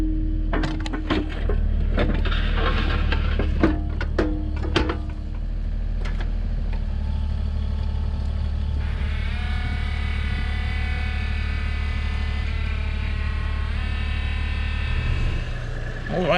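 Excavator engine running at a retaining-wall building site, a steady low rumble throughout with clanks of rocks and machinery early on, close and continuous.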